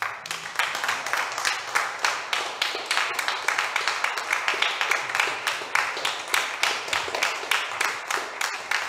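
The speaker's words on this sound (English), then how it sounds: "listen carefully, you will hear the online Church of St. Faith's applauding" Applause from a church congregation, close rhythmic clapping with rapid regular hand strikes sustained throughout and brief pauses, fairly loud and alone.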